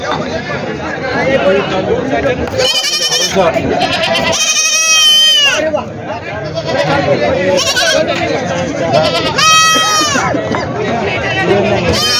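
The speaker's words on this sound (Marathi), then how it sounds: "ह्या शेळ्या आहेत" Goats at a busy livestock market in Vasmat bleat in several loud, close bursts over constant crowd chatter and voices.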